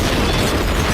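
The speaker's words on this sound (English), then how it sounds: "And a blast." A movie-trailer explosion blast: a dense, roaring wall of noise that stays loud and steady for about a second, with no voices over it.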